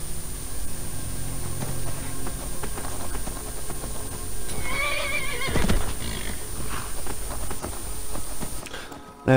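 A horse in Skyrim whinnies loudly in the middle of a stretch of hoof clatter and game ambience while being broken in. The neigh rises sharply and then fades out.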